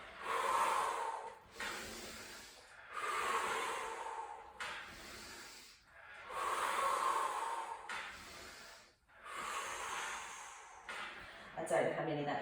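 Deep, forceful breaths during a reformer Pilates exercise, heard close up as about five long hissing exhales in a steady rhythm, each followed by a short pause.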